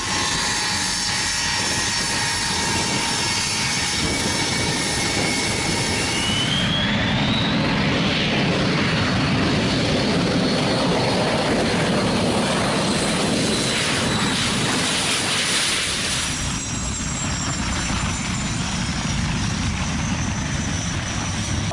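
Aircraft flying at the Wonsan Air Show in North Korea, a continuous engine roar that swells as a plane passes overhead, then fades into a lower drone, with no talk.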